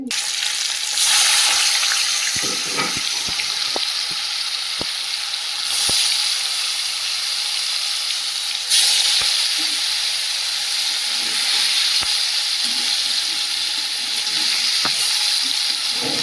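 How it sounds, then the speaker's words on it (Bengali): Paneer pieces frying in hot oil for an aloo paneer dish, giving a steady loud sizzle with bursts as pieces go in and occasional clinks of a utensil, no voices. "গরম হয়ে গেছে ওর মধ্যে তেল দিয়ে দিয়েছি পনিরগুলো আস্তে আস্তে দিয়ে"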